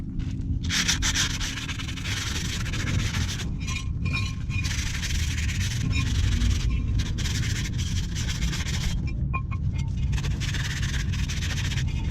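Close, continuous rubbing and scraping as the bevel of a brake rotor from a VR4 is cleaned by hand, with brief pauses and a few faint metallic clinks between strokes.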